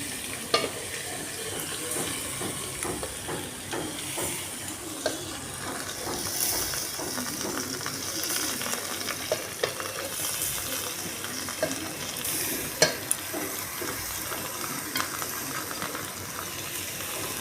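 Rice being stirred with cashews and raisins in a pan for Kashmiri aloo dum pulao, a steady sizzle with repeated scraping strokes throughout, fairly close and moderately loud, no talking.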